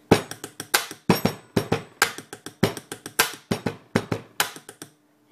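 Quick pen drumming on a desk, a fast run of dense, crisp clicks and knocks in a tight repeating beat, heard up close with no talk.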